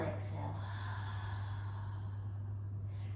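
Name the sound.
exhaling during a yoga breathing exercise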